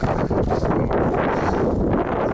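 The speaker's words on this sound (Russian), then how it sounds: "Сильный ветер, ребята." Loud, blustery wind buffets the microphone in a continuous low rumble, with faint rustling mixed in.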